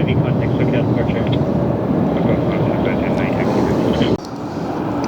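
An Air France heavy airliner at LAX gives a steady, loud engine roar throughout. Near the end the roar drops abruptly, and radio-style talk runs underneath.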